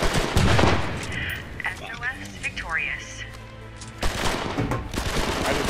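Bursts of M14 rifle fire in the military shooter game H-Hour, sharp repeated shots at the start and again toward the end, with someone talking over the gunfire and other game sounds in between.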